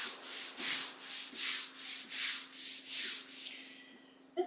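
Hands rubbing up and down the thighs during a yoga class, eight close, soft, even swishing strokes in a steady rhythm with no talk, followed by a brief quiet pause and a small tap.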